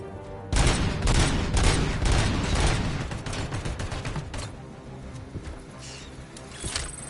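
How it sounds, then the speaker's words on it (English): Assault rifle gunfire in Robocop: Rogue City, dense rapid bursts loud and close at first, then thinning into scattered shots and quieter impacts toward the end. "This assault rifle's good."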